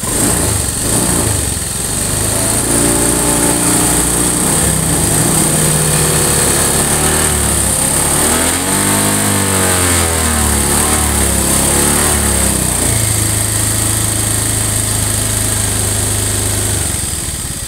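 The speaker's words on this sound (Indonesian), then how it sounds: "kalau digas RPM tinggi, semakin tinggi mesin semakin kasar suaranya" A Honda Beat Eco scooter engine with a worn piston runs loud and close, rising and falling in pitch as it revs, with a rough, rattling, uneven tone throughout.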